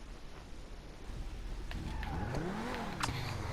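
A T20 supercar accelerates hard in GTA V, its engine note climbing in pitch through rising sweeps over a low rumble, fairly faint and growing slightly louder toward the end.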